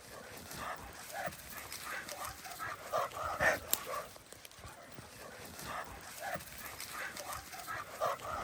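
Large working dogs bark in a mountain gorge, distant and faint, with scattered barks and whimpers over a steady outdoor wash of noise.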